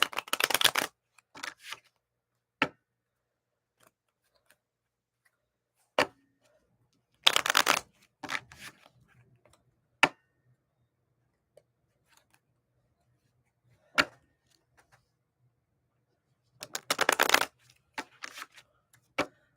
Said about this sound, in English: As I'm shuffling the cards, that's what I am setting my intentions.